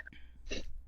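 A single short, faint sneeze, a quick sharp burst of breath heard alone.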